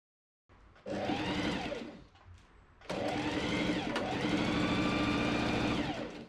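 A sewing machine runs close and steady, stitching the shoulder seams of a Victorian-style nightgown in two long bursts separated by a short pause, with no voices.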